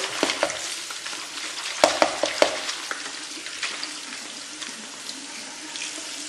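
Zucchini seeds being washed in water, with a constant watery rush and splashy stirring, and a few sharper sloshes and knocks near the middle, close and fairly loud, without speech.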